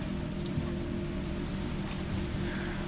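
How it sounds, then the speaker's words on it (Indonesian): A heavy rainstorm pours outside in the video game Resident Evil 3: a dense, steady hiss of falling rain over a low, rumbling drone, constant in loudness throughout with no pauses and no voices. "Buset, itu bukan hujan lagi, badai itu, guys."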